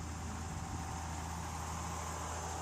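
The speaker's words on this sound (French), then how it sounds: "Donc Daniel Brémond dans son tracteur qui sème dans du blé." A tractor engine drones steadily while pulling a direct-seeding drill through a wheat field, a continuous broadband rumble close by with no break or talk.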